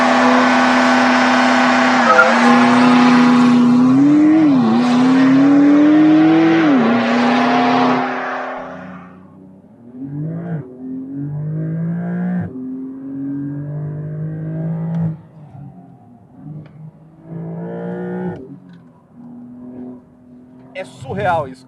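A 2023 Porsche 911 Carrera GTS is driven hard along a winding S-curve road, its engine loud and close as it revs up and down through the bends, with tires squealing. The engine note later drops as the car shifts and accelerates in short bursts.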